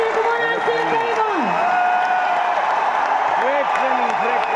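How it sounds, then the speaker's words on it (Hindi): An audience at an RCM training event gives loud, sustained applause, a steady wash of clapping running throughout with a voice talking over it. "जोरदार तालियां बनते"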